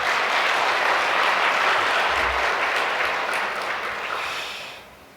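Sustained applause fills the hall at a peace summit, loud and even at first, then fading out toward the end.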